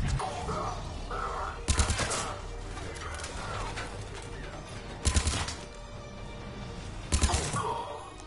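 Sci-fi shooter gunfire comes in three sharp, loud bursts of rapid shots, spaced a few seconds apart, over ambient game noise and some soft voice sounds.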